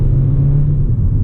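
A 2019 Mercedes A-Class AMG Line with a 116-horsepower engine accelerates uphill on a mountain road, a steady low rumble of engine and road noise heard from inside the cabin, fairly loud and even throughout.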